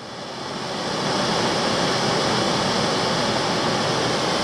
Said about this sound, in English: Still an interesting waterfall.